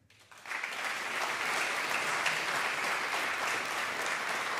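An audience in a concert hall at a Czechoslovak anniversary concert bursts into applause, rising quickly to a dense, sustained clapping that continues evenly to the end.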